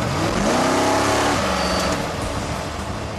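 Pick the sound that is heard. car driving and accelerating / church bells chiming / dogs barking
car driving and accelerating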